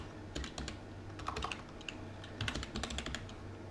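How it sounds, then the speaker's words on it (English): Fingers tap out a short word on a computer keyboard, a quick run of light, close key clicks in an irregular rhythm, soft and alone with no talking. "So we're gonna type in oscilloscope."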